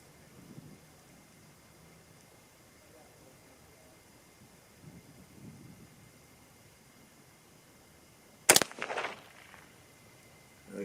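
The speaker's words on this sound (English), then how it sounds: "So let's go ahead and shoot these first 3 shots" A 6.5 Grendel rifle is fired at a target 50 yards away: one sharp, loud shot with a short echoing tail after a quiet stretch, and soft talk earlier.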